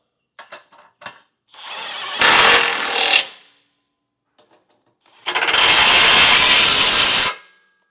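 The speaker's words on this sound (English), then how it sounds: "Now we can go through and tighten and torque down each piece of hardware that we've installed." A power tool tightens and torques the bolts on an ARB skid plate being installed under a 2015 Toyota 4Runner. It runs in two loud, sustained bursts, each preceded by a few sharp clicks and taps, with no talking.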